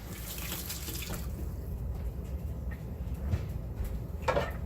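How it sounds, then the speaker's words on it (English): A kitchen tap runs steadily and fairly quietly while fingers are rinsed under it, with splashing that changes as the hands move through the stream and a few light clinks. "I'm going to rinse off my fingers"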